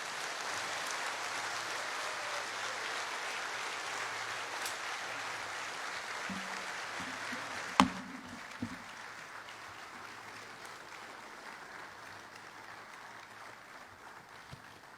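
Audience rising in standing applause at a presidential inauguration in Guyana, a broad steady wash of clapping that holds for several seconds, a sharp knock near the middle, then thins and fades toward the end.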